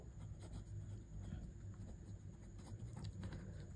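A pen writing on paper during a maths lesson, a soft continuous scratching and scribbling close by, faint and steady under a low background hum.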